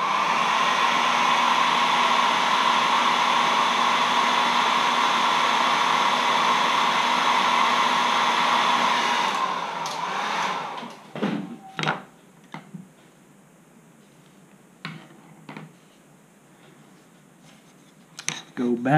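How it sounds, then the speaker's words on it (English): A hair dryer blows steadily to dry paint on a carved wooden letter opener, a loud, continuous whooshing roar that cuts off about halfway, followed by light thunks and handling noises. "We'll hair dry it again."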